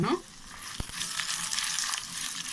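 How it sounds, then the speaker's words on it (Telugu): Coriander seeds sizzle in hot oil with green and dried red chilies for a cucumber chutney: a steady, close hiss of frying with a single sharp clunk early on and no talking. "ఇలా ధనియాలు కొంచెం వేగిన తర్వాత ఇందులో పచ్చిమిరపకాయలు, ఎండుమిరపకాయలు 2 వేసేసుకుంటాను ఫ్రెండ్స్."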